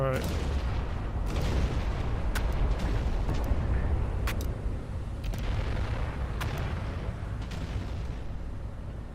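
Heavy battleship gun salvos in the naval warfare game Battleship Command, a dense rumbling barrage of booms and sharp cracks, several distinct blasts spaced across a continuous roar of naval combat.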